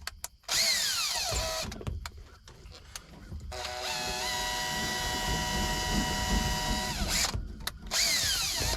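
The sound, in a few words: power drill spinning a drain cable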